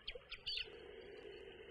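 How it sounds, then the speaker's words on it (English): A Dreamer sound clock plays a faint recording of birds, a few quick chirps and tweets at the start over a soft steady background hum. "Oh, some birds. Maybe it's morning."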